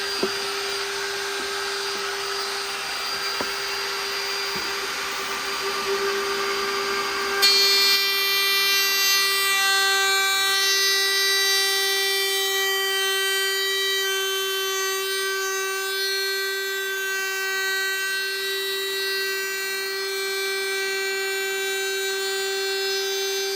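A router cutting the binding channel around a guitar's back and sides, a loud continuous high whine with harmonic tones that shift and brighten partway through as the bit bites into wood, with no talking.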